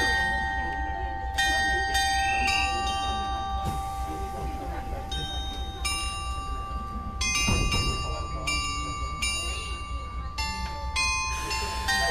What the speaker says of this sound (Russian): Вот такие колокольчики звенят.